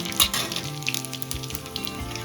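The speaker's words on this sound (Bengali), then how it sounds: "ফোড়নে দেবো আমি তেজপাতা, গোটা জিরে আর শুকনো লঙ্কা দিয়ে একটু নাড়াচাড়া করে" Bay leaf, whole cumin and dried chillies sizzle in hot oil for a dalia khichuri, a short steady crackle close up with a few sharp pops near the start and no talking.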